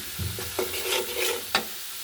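Soft sizzling of fish being sautéed in a pan, broken by a few scraping stirs of a spatula, close and fairly quiet, without talk.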